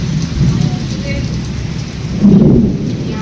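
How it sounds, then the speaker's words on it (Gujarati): A windy thunderstorm with heavy rain gives a steady roar of rainfall, swelling twice with deep rumbles of thunder close by. "આવું તોફાન હમણાં પણ નથી આવ્યું"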